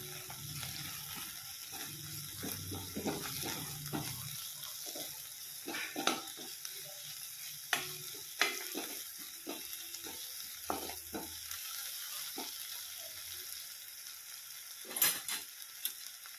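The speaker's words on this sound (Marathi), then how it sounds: "हिरवी मिरची टाकते" Green chillies fry in a pan for a fresh green chickpea chutney. A soft sizzle runs under scattered scrapes and clinks of stirring, with occasional louder knocks of the utensil against the pan.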